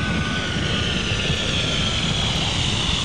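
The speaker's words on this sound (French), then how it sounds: "Là on a un exemple de l'hélicoptère qui a été utilisé pour faire le plan au moment où il se pose." A helicopter setting down for a film shot, making a loud, steady broadband roar of rotor and engine that holds throughout with no voices.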